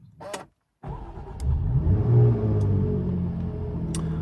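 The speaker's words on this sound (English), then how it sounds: "let's start up the supercharged V6 with the stop-start button down here" A supercharged V6 in a Jaguar F-Type cranks and fires after a short pause, then settles into a loud, steady, slightly elevated idle rumble, close by and heard alone.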